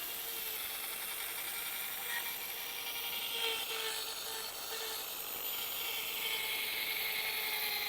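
A power drill fitted with a wet sanding disc runs at a steady speed over a cloudy car headlight. A continuous high whir and grinding hiss sits close and holds evenly throughout.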